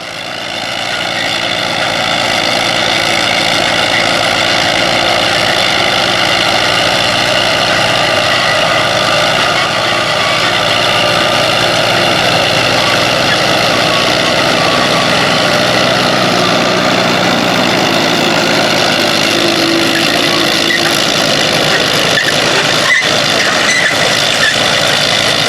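Tandem Allis-Chalmers WD farm tractor engines idle steadily throughout, a continuous low rumble with droning harmonics, loud and close with no talking.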